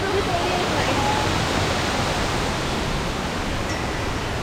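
Kothapally waterfalls in Andhra, a steady broadband rush of falling water heard from a distance, continuous and even throughout with no clear voices over it.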